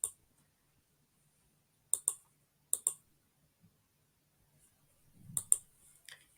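Sparse, sharp clicks from a computer mouse or keys as a link is opened in a browser, coming in short pairs with long quiet gaps, faint and close, with a soft rustle near the end.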